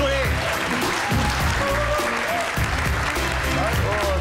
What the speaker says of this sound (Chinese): 我们欢迎他，掌声鼓励。